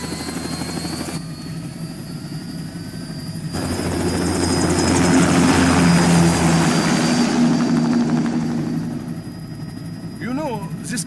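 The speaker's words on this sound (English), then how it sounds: "Commencing takeoff in semi-auto mode." An aircraft takes off in Metal Gear Rising: Revengeance. A steady roaring engine drone with a thin whine swells to a peak midway, then eases off slightly.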